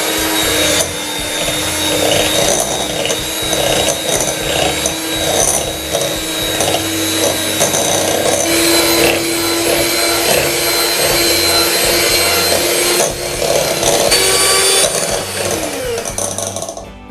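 An electric whisk whirs steadily while blending curd smooth for a fruit salad, a loud continuous motor drone with rattling against the bowl, running without pause throughout.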